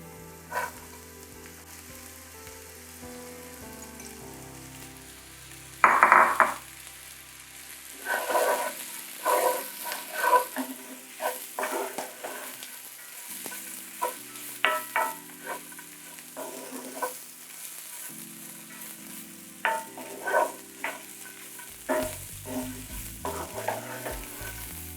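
Lentils and spices with onion are stirred and fried in a pan for vegan lentil taco filling, with a steady sizzle, scraping stir strokes and clinks at irregular intervals, close and fairly loud throughout, with no talking.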